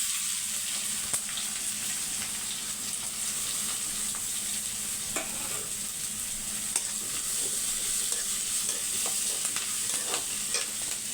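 Mustard seeds, green chillies, curry leaves and onion fry in hot oil for tomato thokku, giving a steady, dense sizzle with scattered light stirring clicks throughout, no voices.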